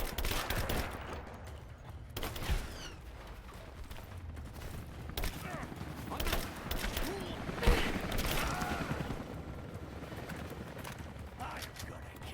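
Gunfire in Rise of the Tomb Raider comes in rattling bursts and scattered single shots, fairly quiet and mixed under shouting voices, with one sharper crack standing out midway.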